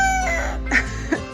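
Chickens cluck in a new homestead enclosure, with a few sharp, louder clucks standing out over a low, steady background hum, close by and without speech.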